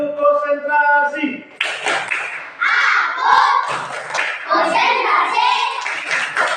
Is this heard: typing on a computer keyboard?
no